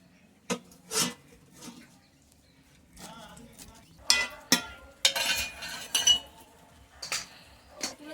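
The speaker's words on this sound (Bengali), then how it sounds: "এবার দেখুন আমি একটা ঢাকনা চাপা দিয়ে দিচ্ছি যাতে তাড়াতাড়ি ডালটা গলে যায়" A metal lid clinks onto a pot of mung dal cooking on the stove, followed by a few scattered clatters and knocks of kitchen utensils, fairly close and moderately loud with quiet gaps between them.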